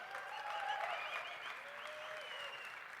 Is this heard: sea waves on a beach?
no